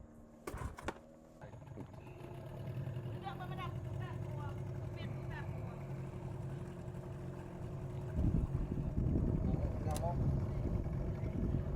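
Outboard engine of a small fishing boat running steadily on a Malaysian river or coast during a casting-net outing, a continuous low drone that strengthens near the end, with people talking over it.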